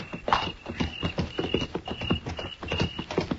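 Rhythmic clip-clop of horse hooves, steady repeated knocks at a walking pace, fairly close, with a faint high tone running underneath.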